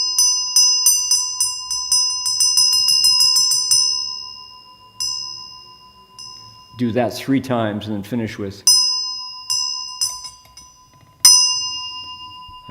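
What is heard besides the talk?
quickly decaying bell rung in ornate pattern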